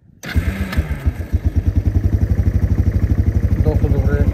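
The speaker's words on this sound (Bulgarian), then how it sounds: "Доста добре чува моторчето." A Kawasaki Lakota KEF300 ATV engine cranks over and catches, then settles into a steady, rapid, thumping idle close by, with a voice speaking briefly over the start.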